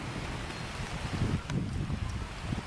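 Steady wind buffets the microphone in blustery, heavy weather during an RC flight with a Multiplex Fun Cub model plane, a constant broadband roar with gusty surges and no talk.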